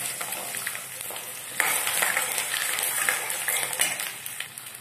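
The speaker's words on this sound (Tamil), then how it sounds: "பூண்டு ஒரு 2 நிமிஷம் நல்லா வதங்கட்டும்." Garlic sizzles and crackles in hot oil while cooking for Tamil garlic vatha kuzhambu, growing louder partway through as it is stirred, a continuous bright frying hiss with no talking.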